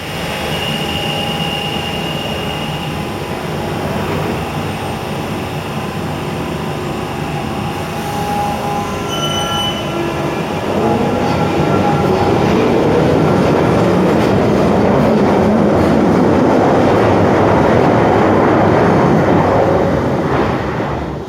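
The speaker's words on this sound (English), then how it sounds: "Now we go to a 1992 train at Bank." A 1992 London Underground train at Bank station rumbles and hums loudly, swelling louder midway as it moves with rail clatter and high whine, with no voices.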